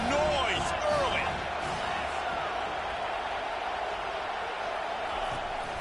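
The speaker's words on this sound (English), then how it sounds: "This crowd bringing the energy and noise early." A college football stadium crowd at a JMU at Tennessee game makes a steady, dense roar with scattered whistles and cheers, loudest at the start and continuous throughout.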